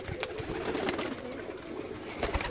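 Breeder pigeons at a rooftop loft in Chak Pindi, Gujrat, coo steadily and close by, with soft overlapping calls forming a continuous murmur and a few sharper bird sounds.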